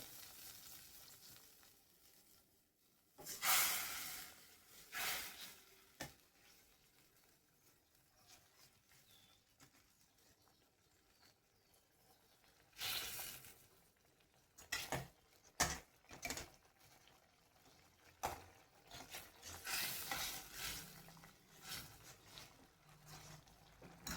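Upma being stirred and mixed in a hot pan, giving irregular bursts of sizzling and scraping that swell and fade between quieter simmering gaps, close by with no voices.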